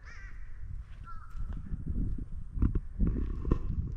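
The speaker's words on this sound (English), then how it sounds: "A couple birds calling each other." A couple of crows caw back and forth in a wooded backyard near a pond and creek, the harsh calls moderately near and sometimes overlapping, with scattered footsteps and low rustling in between.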